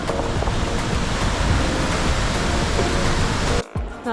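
A waterfall in the mountains of the Northern Philippines roars as a dense, steady wash of falling water up close, cutting out abruptly near the end.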